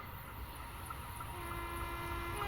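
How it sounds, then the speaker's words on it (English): A steady rumbling Class 800 'Azuma' train in Train Sim World 2022 rolls past, a continuous low roar with faint clattering and a thin sustained tone, loud and close throughout. "Is this train coming past?"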